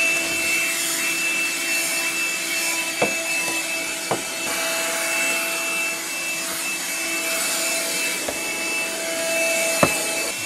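A GEKER 12V corded mini vacuum cleaner runs steadily with a constant whine, used on the corners inside a caravan. A few faint clicks and knocks rise over the drone, and nobody speaks.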